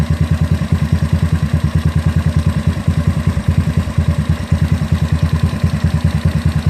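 A GY6 scooter engine fitted with an OKO PWK 30mm carburetor runs steadily at a fast, even idle, its loud clattering pulse close up and unbroken, with no talk over it.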